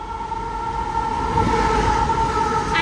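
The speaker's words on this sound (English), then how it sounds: "The train on platform 1 does not stop at this platform." A passenger train hauled by lead locomotive PHC1 runs straight through Meadowbank station in Sydney without stopping, a loud, steady rumble and wheel roar with a sustained tonal whine, close by and continuous throughout.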